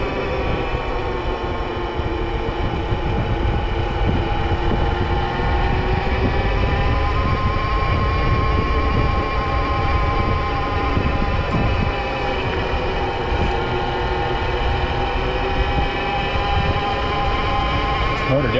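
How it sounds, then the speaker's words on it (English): A QuietKat Jeep electric all-terrain bike's mid-drive motor runs at throttle with a loud, steady whine. Layered tonal harmonics hold continuously throughout against a rumbling low-end drone. "This motor definitely makes a lot of noise."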